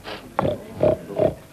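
Clementoni talking toy slate playing a pig oinking, three quick close grunting oinks in succession, electronic and clear with no talk.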